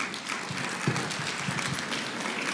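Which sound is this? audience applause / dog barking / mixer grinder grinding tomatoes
audience applause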